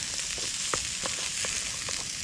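Salt and pepper ribs fry on hot titanium plates over an open campfire at a winter bushcraft camp, giving a constant crackling sizzle with a few light taps and scrapes as they are stirred.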